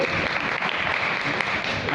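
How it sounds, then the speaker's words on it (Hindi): Audience applause fills a Hindi religious discourse gathering, a steady, even wash of clapping lasting throughout, with a voice faintly present underneath. "एक बार तालियां बजाते।"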